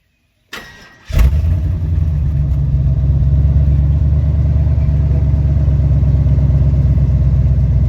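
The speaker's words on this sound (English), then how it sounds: "Here's a cold start up on the OBS." A cold-started engine on an old Ford OBS truck catches after a brief crank and a second attempt, then settles into a steady, loud, rough idle that drones on close by, with no talk.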